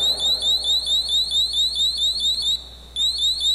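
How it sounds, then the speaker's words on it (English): An electronic door lock's built-in alarm beeps in a fast, steady run of loud, close, high-pitched electronic tones, pausing briefly near the end before resuming. "you can hear it's going off. So there's a little alarm feature."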